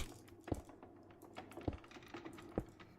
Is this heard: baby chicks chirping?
no